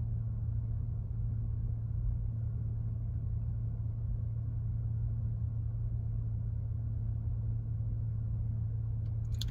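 Steady low rumble of a car rolling along a road at cruising speed during a driving lesson, a constant engine and road drone throughout with no voices.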